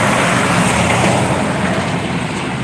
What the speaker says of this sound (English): Lots of traffic.